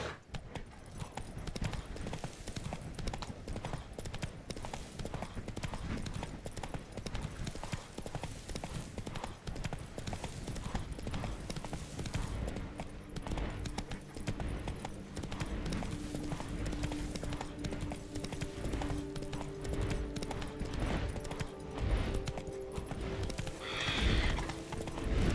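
Horse galloping along in the video game Witcher 3: Blood and Wine, a steady rapid clip-clop of hooves running throughout, with occasional whinnies and a few quiet spoken words.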